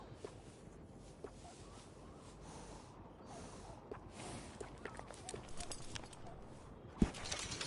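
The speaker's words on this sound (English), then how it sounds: "grooming a horse sure makes it a beaut" A horse in Red Dead Redemption 2 snorts while being groomed, a brief close snort rising over a steady bed of ambient outdoor noise with scattered light clops and soft movement.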